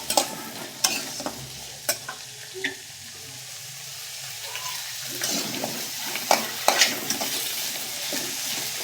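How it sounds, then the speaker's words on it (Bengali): Chunks of elephant foot yam and potato frying in oil left from frying fish give a steady sizzle, broken by scattered clicks and scrapes of a utensil stirring the pan. "এবার ওই তেলেতেই আমি ওলটাকে আর আলুটাকে দিয়ে দিয়েছি, একটু ভেজে নেব।"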